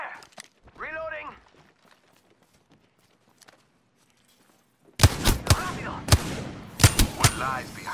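Gunfire in the battle royale game Apex Legends: a fast cluster of sharp, loud shots arrives after a near-silent stretch, mixed with a few echoing cracks, following an earlier shouted voice.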